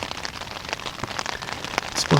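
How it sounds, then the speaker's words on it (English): Steady rain patters on a tarp and tents at a hunting camp, a dense continuous hiss with scattered louder drops close by, alone without voices. "It's raining right now if you can't hear it"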